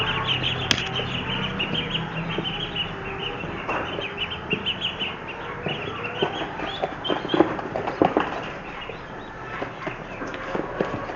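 Several chickens cluck and flap close by while being fed grain, with scattered scratching and pecking noises over a busy, continuous farmyard background; no one talks.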